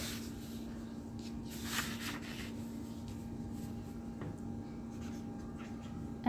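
A pen scratches across a sheet of paper as numbers are jotted down during a maths lesson, with soft, faint strokes in short bursts over a steady low background hum.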